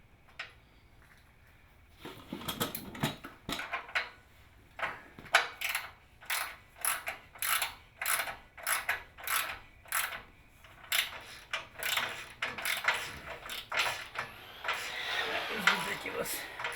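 A hand ratchet drives a 13 mm thread chaser through a bumper mount hole on a 2014 Nissan Frontier during a custom bumper install, giving a steady series of close, loud clicking strokes in an even rhythm that builds and continues.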